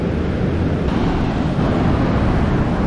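Large surf breaks on Arambol beach in Goa, a loud, continuous roar of crashing waves buffeted by heavy wind noise across the microphone.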